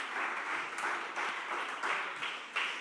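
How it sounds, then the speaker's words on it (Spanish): A church congregation claps together in rhythmic surges, several bursts of hearty applause rising and falling in steady waves across the whole stretch. "Aplauda de verdad."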